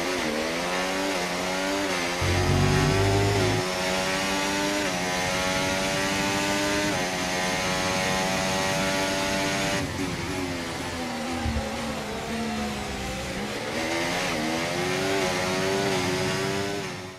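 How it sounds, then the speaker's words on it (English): A Formula 1 car engine from the racing game F1 24 whines at a high pitch, rising and falling through repeated gear shifts with revving sweeps. The sound is loud and sustained and plays alone, with no talking. "Engine noises, they can vary."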